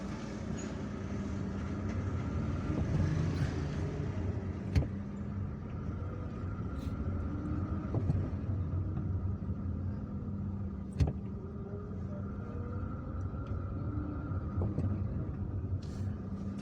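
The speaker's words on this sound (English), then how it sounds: "There is traffic here, but it's normal." Steady low rumble of city street traffic heard from inside a moving car in Hydra, Algiers, with a continuous road drone and occasional faint clicks and knocks.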